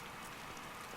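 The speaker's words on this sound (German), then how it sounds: "Okay, jetzt regen's." Steady rain falling in the open-world video game Days Gone, a dense even hiss of drops on surfaces with no voices over it.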